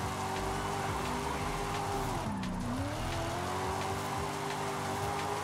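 A Ford Mustang in Forza Horizon 5 drones steadily at high revs with a thin, whiny engine tone that dips briefly and climbs again as the car slows and re-accelerates, with a faint tire squeal.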